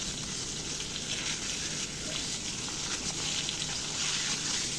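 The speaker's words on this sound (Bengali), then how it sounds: "তো মাছটা দিয়ে দিলাম। এখন এটা উল্টে পাল্টে আমাকে মাছটা ভেজে নিতে হবে।" Koi fish frying in hot oil in a pan, a steady, dense sizzle and crackle that runs continuously and evenly throughout at close range, with no talking.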